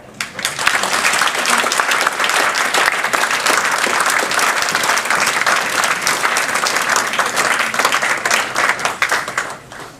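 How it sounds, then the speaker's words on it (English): Audience applause at a Carers Rights Day 2014 award presentation for a surgery and a community pharmacy, steady and full for about ten seconds before easing off. "So I hope you give them a big hand of applause because they really have worked hard for this achievement."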